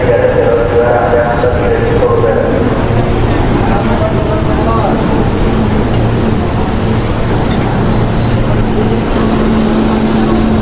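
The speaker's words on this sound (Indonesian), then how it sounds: "Tuh, KRL datang." A KRL commuter train arrives at a station with a loud, continuous rumble of rolling wheels and a rising squeal, and voices are faintly audible in the background.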